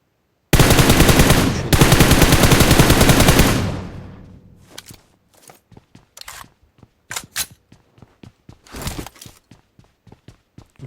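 Loud, rapid automatic gunfire from a shooting video game, two sustained bursts that give way to scattered single shots and short clusters.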